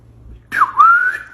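A single whistle rises, dips and then holds a steady tone for under a second, loud and near, with no talk over it.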